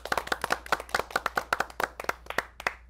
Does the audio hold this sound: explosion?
no